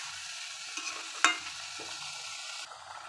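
Small hilsa fish with roe are sautéed in a pan for a curry, with a steady close sizzle and a sharp scrape of a spatula against the pan partway through.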